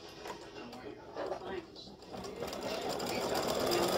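An embroidery machine sews a darker gray triple-stitch highlight on a gnome's beard, a close, rapid mechanical chatter that builds steadily louder, with a voice talking over it.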